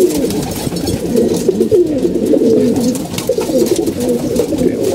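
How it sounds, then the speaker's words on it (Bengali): Male pigeons cooing continuously in low, throaty rolling calls, several birds overlapping close by with no talking. "সবগুলো নর এখন ডাকাডাকি করতে আসছে"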